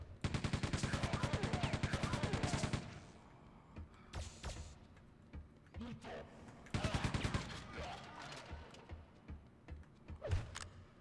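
Rapid automatic gunfire from the shooter game Quake 2 Remastered, fired in two long bursts separated by scattered single shots and game clatter, with someone talking intermittently in between.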